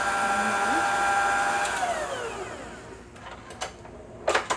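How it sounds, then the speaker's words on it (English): An electric mixer whirs through butter and cocoa powder, a steady motor whine that winds down and fades, followed by a few sharp clacks and taps from the bowl. "Just mixing up the butter and the cocoa powder real quick."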